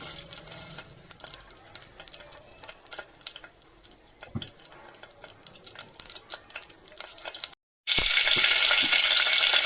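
Bay leaf and curry leaves drop into hot oil for a Malvani liver dish: light crackles and stirring at first, then a sudden loud, steady sizzle close up.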